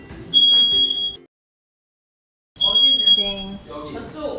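A smoke alarm goes off during brownie baking, a piercing high-pitched electronic tone sounding in two bursts separated by a short silence, with people talking underneath.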